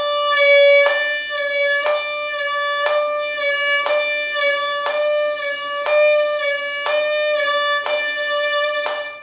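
A violin sustains a single bowed note with third-finger vibrato, the pitch wavering in a regular cycle while the bow changes direction about once a second, clear and close with no talk.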